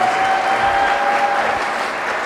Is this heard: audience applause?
yes